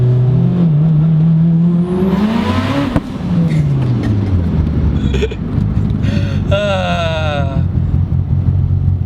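The engine of a modified Mitsubishi Evo lopes and revs, a loud uneven idle rising into throttle blips and climbing pulls with gear-change dips, heard up close and continuously.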